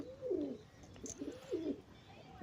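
Soft, low Madrasi pigeon coos, several rounded phrases close by, with brief pauses between them and a faint background hum.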